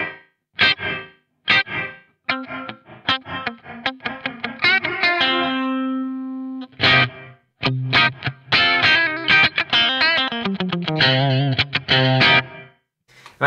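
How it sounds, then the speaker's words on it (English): Electric guitar played through a BOSS RV-500 reverb pedal in early reflection mode, distorted riffs and chords with one long held note, punctuated by short gaps and a tight slapback-like ambience. "The early reflection mode as well is nice if you like that sort of special effect"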